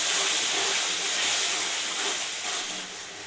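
Hot water poured into a hot pan already holding turmeric, coriander, cumin and Kashmiri chilli powder, bursting into a loud, close, continuous steam hiss that eases slightly near the end.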